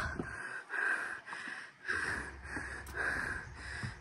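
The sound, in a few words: heavy panting after climbing stairs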